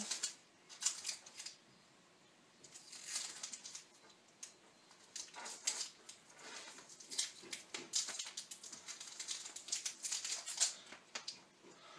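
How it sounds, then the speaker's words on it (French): Quick, crackly tearing noises come in bursts, like strips of adhesive tape being ripped off a roll, close by with short gaps between pulls. "Hop, rebout de scotch."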